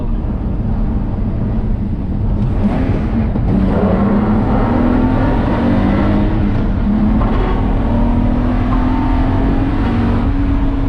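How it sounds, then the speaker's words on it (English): A BMW E46 drift car on its first test drive, its engine revving and rising in pitch as it accelerates, holding a steady loud drone with a few shifts, heard from inside or close by with no talk. "we just did our first test drive in this car"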